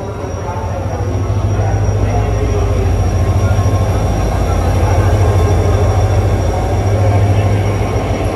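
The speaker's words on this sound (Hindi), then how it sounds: "10 मिनट अर्लिंग आ रही है रहमान भाई एक्सप्रेस, इसको लोकोमोटिव लीड कर रहे हैं" An express passenger train led by an HGMU locomotive arrives, a loud continuous rumble of wheels and engine drone with rhythmic rail clatter, steady and close throughout.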